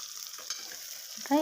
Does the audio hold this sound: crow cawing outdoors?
no